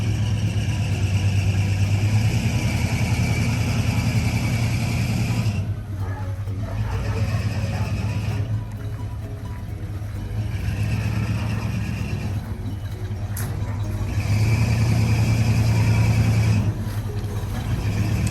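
A 1980 GMC Jimmy runs steadily while being driven, its low engine drone continuous and fairly loud throughout, with slight swells as the throttle changes.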